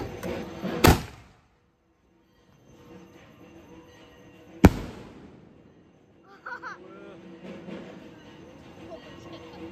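Firecrackers go off during Diwali celebrations: two sharp, loud bangs a few seconds apart, each fading quickly, followed by quieter background voices and rustling.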